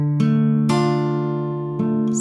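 Fingerpicked acoustic guitar chords from a song's progression, three plucked chords ringing clearly one after another, close and with no talking.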